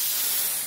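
A short, steady hiss of hair shine spray misted onto a braided hairstyle, close and fairly loud, lasting under a second and tapering off at the end.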